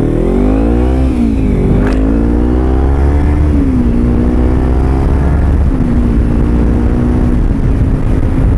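A Kawasaki Ninja 300 motorcycle engine, fitted with a deeper-sounding exhaust, rumbles loud and close, its pitch rising and falling through a few revs before settling into a steady idle.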